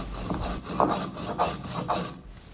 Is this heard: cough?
no